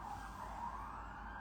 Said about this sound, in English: Lots of sirens today.